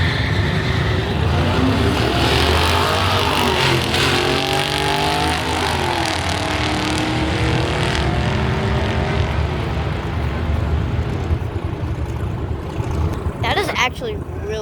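A BMW and a Mercedes drag racing at a car show, engines roaring loud and close in a sustained high-revving blast with shifting pitch, crowd noise and voices mixed in.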